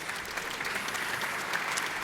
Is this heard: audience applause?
yes